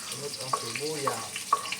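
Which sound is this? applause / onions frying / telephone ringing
onions frying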